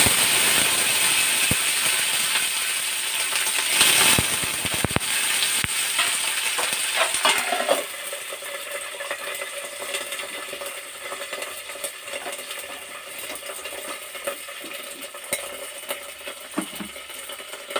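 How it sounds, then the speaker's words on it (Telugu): Mustard seeds and green chillies frying in hot oil, a dense bright sizzle with sharp crackles and pops that is loud at first, then settles into a softer, steady hiss, with no talking. "కొంచెం ఆవాలు, ఎక్కువ కాదు, వేసుకొని అప్పుడు మనం ఇలాగా తీసి పెట్టుకున్న ఈ పచ్చిమిర్చి వేసేస్తాం"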